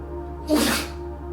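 One short, breathy sneeze from a small animal, close by, standing out against a steady low hum.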